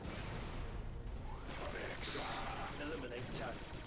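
Blaster gunfire from Star Wars Republic Commando crackles in a busy, fast-repeating run of shots, mixed with other game noise and overlapping voices.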